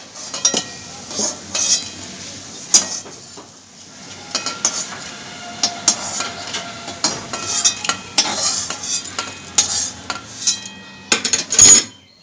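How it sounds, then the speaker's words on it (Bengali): Paneer pieces fry in mustard oil in a pan with a soft, steady sizzle, broken by frequent clinks and scrapes of a utensil against the metal, loud and close. "বাকি পনিরগুলো আমি একইভাবে ভেজে নিচ্ছি।"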